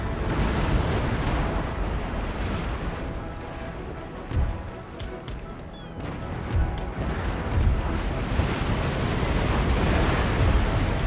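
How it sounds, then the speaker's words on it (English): Naval battle in Empire: Total War with rocket ships firing from the rear of the fleet: a dense, continuous roar of cannon and explosion rumble with sea wash, punctuated by sharper bursts around the middle. "Alright, rocket ship's still firing away."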